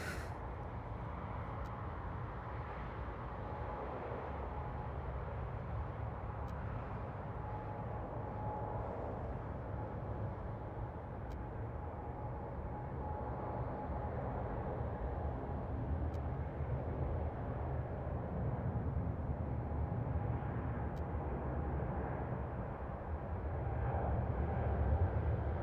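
A Turkish Airlines airliner at Toronto airport with its engines spooling up, a steady distant roar with a faint whine on top, slowly growing louder over the whole stretch, no talking.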